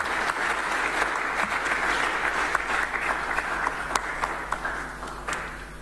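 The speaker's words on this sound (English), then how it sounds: "a round of applause for Mr. Yauba as he comes to speak" Audience in an auditorium at a public forum applauding a speaker: a sustained, even wash of many hands clapping, moderately loud with scattered sharper claps, continuing steadily for several seconds.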